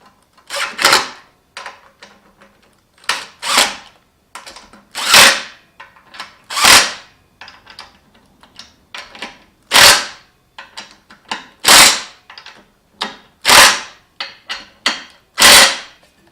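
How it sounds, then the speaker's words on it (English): An impact driver drives bolts into a torque converter during a trike build, firing about a dozen loud, close rattling bursts separated by short pauses, with faint handling noises in the gaps. "If you're going to use an impact driver, just make sure that you start them by hand so you don't cross thread anything."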